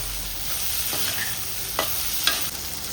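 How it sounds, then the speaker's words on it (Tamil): Tamarind, a chunk about the size of a large lemon, frying in hot oil in a pan for a sundakkai thuvaiyal, giving a steady close sizzle with a few sharp stirring scrapes and clicks. "எண்ணெயில் அதே வதக்கி வச்சுக்கிறேன்."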